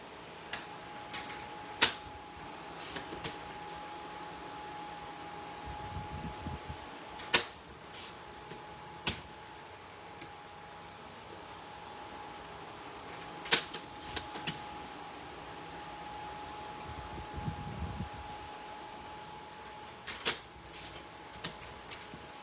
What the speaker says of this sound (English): So what I'm going to do is I'm going to cut 3/4 inch strips.